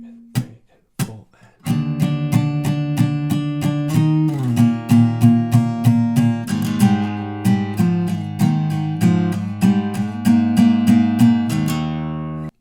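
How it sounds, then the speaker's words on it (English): Acoustic guitar strums the chords of a song in steady eighth-note downstrokes, an even run of bright close strums that follows a few sparse opening hits and ends with a short pause. "we can just strum everything with downstrokes at eighth notes"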